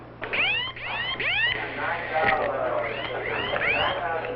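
A pilot's survival radio rescue beeper sends a rapid series of rising warbling tones, loud and repeating in quick bursts over a low steady hum.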